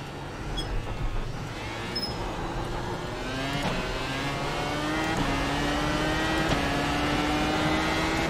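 Dallara iR-01 race car accelerating hard at Suzuka in the iRacing simulator, its engine note climbing steadily through the gears with sharp upshift breaks, loud and continuous throughout.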